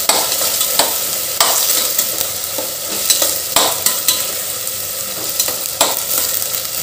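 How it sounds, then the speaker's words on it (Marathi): Masala for Khandeshi masala dal khichdi sizzles and crackles in hot oil while a spoon stirs it, with regular scraping strokes every second or so over a steady close frying hiss. "मसाला आपण छान परतून घेऊ तेलात"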